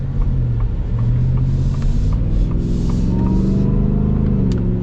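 A supercharged Shelby F-150 Off-Road pickup engine rumbles loudly and steadily nearby, its pitch rising as it revs, with a faint supercharger whine layered over the deep drone.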